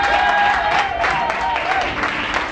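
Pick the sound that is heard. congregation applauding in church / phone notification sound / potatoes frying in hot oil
congregation applauding in church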